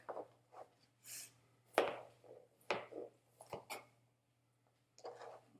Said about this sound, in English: get the rest of my cucumber diced up here real quick